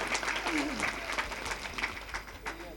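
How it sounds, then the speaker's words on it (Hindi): An audience at a Hindi comic poetry gathering (kavi sammelan) claps in honour of someone, giving moderately faint, steady applause from a crowd with voices audible underneath. "मैं चाहता एक बार काका सम्मान में जोरदार ताली बजा दो"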